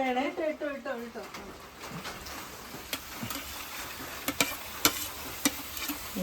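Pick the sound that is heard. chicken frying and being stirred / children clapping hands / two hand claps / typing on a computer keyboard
chicken frying and being stirred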